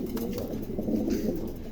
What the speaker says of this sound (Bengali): এখানে এক জোড়া চমৎকার এক জোড়া অ্যান্ডালুসিয়ান কিং আছে